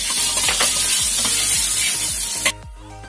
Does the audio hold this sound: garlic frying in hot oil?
yes